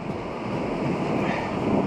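Ocean waves crash against a rocky jetty, a loud, continuous close-up surf roar mixed with heavy wind buffeting the microphone.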